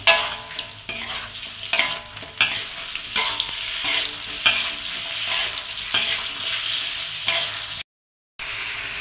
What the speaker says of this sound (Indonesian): Langkah berikutnya langsung saja kita masukkan jengkol yang sudah kita geprek tadi. Kita aduk lagi.